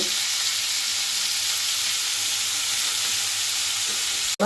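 Tomatoes fry with salt in a pan for kalibili chutney, giving a loud, dense, continuous sizzle up close that cuts off abruptly near the end.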